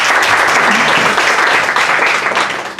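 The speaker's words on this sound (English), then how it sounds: "applause" A steady wash of audience applause at a book launch event, many hands clapping loudly and evenly throughout, tapering slightly at the end.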